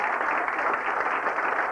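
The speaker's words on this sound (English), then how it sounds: "So really just a big round of applause for him." Audience applause at the 1998 Squash Open tournament, a steady wash of clapping from a crowd that holds at an even level throughout.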